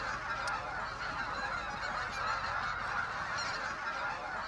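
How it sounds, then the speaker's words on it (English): Greater white-fronted geese give a dense, squeaky chorus of overlapping honks, a continuous flock clamor heard from mid distance with no voices. "If there was a squeaky toy goose, that'd be the greater white-fronted goose"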